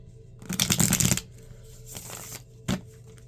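A Rider-Waite tarot deck being shuffled by hand: one long, close riffling burst of cards, then a softer brief shuffle and a short sharp snap of cards, with no talking.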